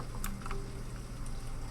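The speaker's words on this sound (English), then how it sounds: "It's raining outside." Steady rain in the video game The Stanley Parable, a continuous even hiss over a low droning hum, with a few faint ticks and patters scattered through it.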